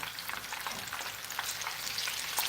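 Baby sardines frying in a pan with garlic and ginger, giving a steady, soft crackling sizzle with scattered bright pops throughout, moderately close and with no voices.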